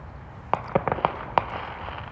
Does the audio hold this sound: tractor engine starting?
no